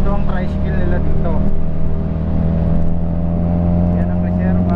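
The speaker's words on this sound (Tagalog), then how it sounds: "Ito ang tricycle nila dito." Small motor tricycle engine drones steadily from close by in a steady hum with a low rumble, while people talk over it throughout.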